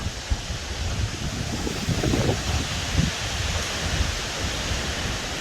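Wind gusting at Mountain Creek Bike Park, a broad steady rush with buffeting against the microphone and faint rustling, no voices.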